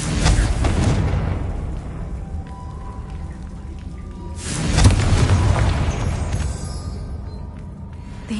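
A Confringo blasting spell explodes in Hogwarts Legacy, with two loud booming blasts about four seconds apart, each followed by a rumbling, crackling decay over dense continuous game ambience.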